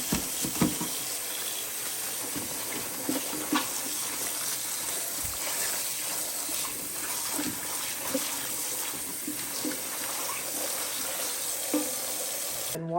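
A kitchen tap runs steadily while bunches of collard greens are washed under it, a constant close gush with occasional splashes and light handling knocks.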